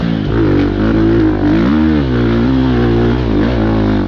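A dirt bike engine revs loud and close on a clay enduro course, its pitch swinging up and down through repeated throttle blips and bogging, with no talk over it.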